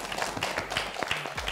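Audience applause in a hall, a steady patter of many hands clapping at close range with no voices over it, brief and fairly even in loudness.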